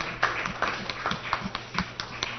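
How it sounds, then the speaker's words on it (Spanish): Audience applause at a Day of the Announcer celebration, a small group clapping in uneven, spaced claps rather than a dense roar. "vamos a darle también un fuerte aplauso"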